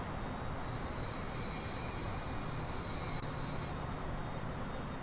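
A fuel train in a Transport Fever game rolls along with a steady rumbling wheel noise and a thin high squeal of wheels on rail that cuts out near the end, continuous and moderately loud.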